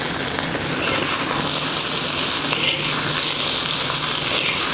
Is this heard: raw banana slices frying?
yes